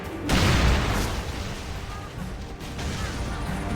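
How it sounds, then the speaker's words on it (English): A bomb exploding in Blade and Soul, with a heavy deep boom at the start and a long rumbling decay, followed by quieter thuds and lingering noise. "That was an impressive blast."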